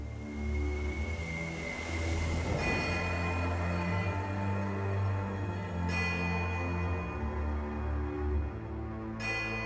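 A dense, sustained chorus of many bells rings in Pillars of Eternity 2: Deadfire, with layered tones swelling and holding steadily for the whole stretch and no voices.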